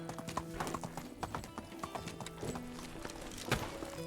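Donkey hooves clip-clop steadily on the ground in the medieval village game Medieval Dynasty, at close range. A whinny and other game ambience sound alongside them.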